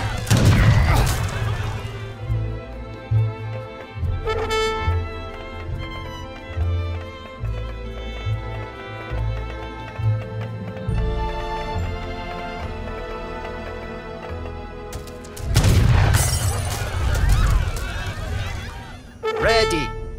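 In Age of Empires III, cannon fire strikes walls in heavy booming crashes, loudest at the start and again near the end, with a game soundtrack and voices running underneath.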